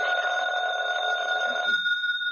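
A telephone rings steadily and loudly with a continuous electronic bell tone for well over a second, then cuts off, leaving near silence with a faint rustle.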